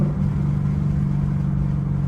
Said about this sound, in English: I kind of want to like push it up there in RPMs to break it in.